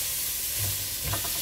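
Pointed gourd fry with onions and chilies is stirred in a hot pan, giving a steady close sizzle with brief scraping strokes of the spoon.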